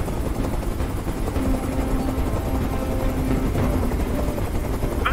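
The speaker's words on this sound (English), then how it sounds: "I can't stand that noise anymore. Tell that helicopter to get out of here." A helicopter in the video game Detroit: Become Human drones steadily with a loud, dense rotor and engine roar that fills the whole stretch without a break.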